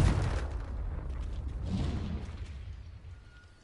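A Confringo fire spell explodes in a video game, a loud booming blast at the start that rumbles and slowly decays over a few seconds, with no talking.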